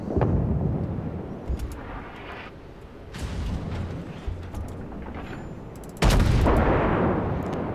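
Heavy naval gunfire booms and rumbles in the World of Warships video game, several loud broadband blasts with long rolling tails, the biggest salvo landing near the end over a constant low battle roar.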